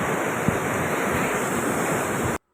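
Water rushes loudly under pressure at the end point of a channel where it flows on toward the sea, a dense, steady roar filling the whole span before cutting off abruptly.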